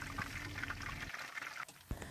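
Taro chips fry in hot oil over a high flame, a bubbling, crackling sizzle that drops away partway through before a few sharp pops return.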